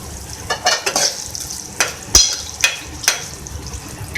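Chicken keema with black pepper and green chillies fries hard in a karahi while a spoon stirs it, giving repeated scraping strokes and metallic clinks over a loud, close sizzle.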